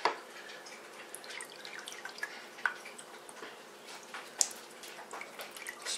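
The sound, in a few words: apple pie cider moonshine liquid spilling and dripping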